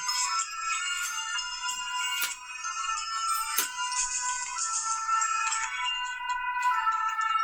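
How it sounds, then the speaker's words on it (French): A phone ringtone plays in the background as a continuous bright, warbling electronic melody across the whole stretch, fairly loud and steady, with a few faint clicks and no speech. "il y a une sonnerie derrière, moi je ne sais pas ce que c'est"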